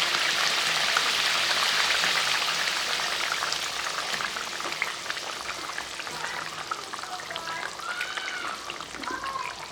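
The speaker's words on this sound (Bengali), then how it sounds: "ঝোলটা সুন্দর ফুটে গেছে।" Fish roe curry gravy boils in a pan, a steady close bubbling and spattering hiss running throughout with small pops, with no talk.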